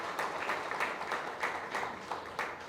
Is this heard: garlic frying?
no